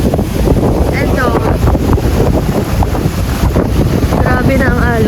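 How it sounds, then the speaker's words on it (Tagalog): Strong stormy wind at sea buffets the microphone on a small boat, a loud, continuous roar with water noise beneath and people talking over it. "grabe, lakas ang hangin"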